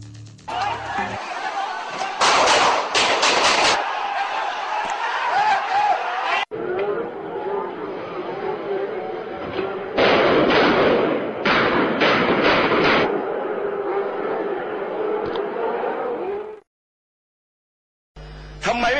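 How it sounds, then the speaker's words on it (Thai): Several sharp bangs ring out in quick clusters over a chaotic, shouting crowd, with an abrupt silence near the end. "ท่ามกลางความโกลาหลก็มีเสียงปืนดังขึ้นหลายนัด"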